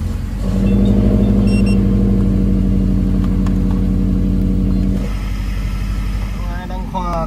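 A Subaru Impreza GF8 engine running close by, a loud rough idle with a strong low throbbing drone that drops slightly near the end, and a voice speaking over it.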